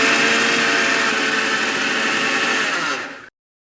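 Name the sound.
mixer grinder grinding roasted spices into powder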